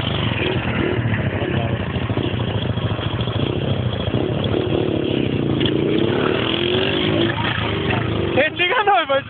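A carbureted motorcycle engine revs loud and close, growling and rising and falling in pitch without a break, while voices talk over it.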